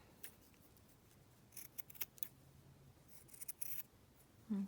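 Paper being cut with scissors to make a journal booklet: several short, crisp snips in quick clusters, fairly faint against a quiet room with no talking.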